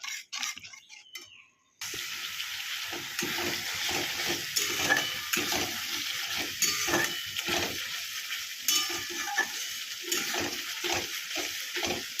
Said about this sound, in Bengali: ভালো করে এই মশলাটা কষাতে হবে